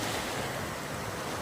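Sea surf washes steadily onto the beach at Lobo, Batangas, a continuous broadband roar of breaking waves with some wind rumble, close and fairly loud throughout.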